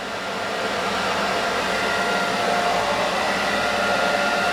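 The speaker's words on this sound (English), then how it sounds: "Use your blow dryer as well." A hair dryer blows steadily at close range during a haircut, a constant whooshing roar with a slight rise in level at the start and no voices.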